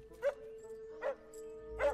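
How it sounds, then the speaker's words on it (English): A small dog gives three short, sharp barks spaced evenly apart, fairly close and moderately loud over a quiet indoor background. "Aw, look at the little doggy."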